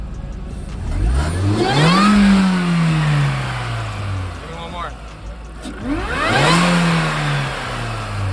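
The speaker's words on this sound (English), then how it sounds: "You hear the vacuum when you hit the throttle?" A Mini Cooper R53 engine with a new M7 Speed intake revs hard twice, each burst climbing and falling back with audible intake vacuum, loud and close, with a brief spoken remark between revs.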